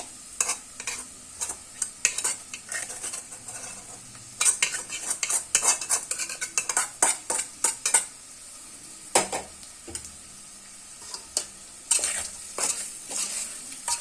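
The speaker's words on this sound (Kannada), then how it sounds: "ಈ ರೀತಿ ಚೆನ್ನಾಗಿ ಮಿಕ್ಸ್ ಮಾಡ್ತಾ ಬರಬೇಕು" A spoon stirs egg sambar masala in a pan with quick irregular scrapes and clinks against the metal, while a soft sizzle continues underneath.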